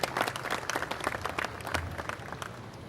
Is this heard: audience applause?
yes